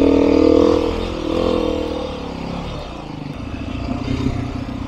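Beta 390 dirt bike engine running, a loud idling rumble that swells briefly then settles into a steady low putter with light mechanical clatter, no talk.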